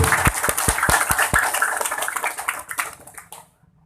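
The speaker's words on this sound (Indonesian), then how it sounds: "Tepuk tangan." Applause from a crowd at an evening Islamic dhikr gathering, a burst of rhythmic clapping with several distinct loud claps, thinning and fading out to near silence by the end.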